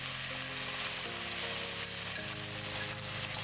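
Blended chili paste sizzling and frying with onions in a pan for sweet and sour crispy sea bass, a steady loud crackle and hiss with a few soft stirring scrapes, no voices.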